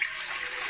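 Water is poured into a stand mixer bowl for bread dough: a brief, soft, splashy rush of liquid lasting under a second.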